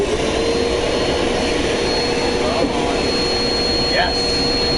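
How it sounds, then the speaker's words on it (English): A vacuum cleaner runs steadily indoors, sucking up bugs with a loud continuous whining roar and a high tonal whistle that shifts slightly as the attachment moves. "Yes, into the vacuum you go."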